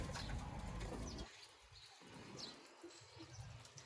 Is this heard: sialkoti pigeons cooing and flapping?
yes